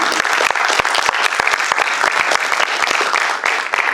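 Dense, steady applause from an audience at a Badal Sircar centenary theatre celebration in Pune, many hands clapping at close range without pause for the whole stretch.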